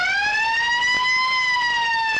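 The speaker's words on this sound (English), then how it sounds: "There's the siren to get the game underway" A loud, steady siren starting a 2003 Richmond vs Fremantle football practice match blares continuously at one sustained pitch with rich harmonics, over faint crowd noise.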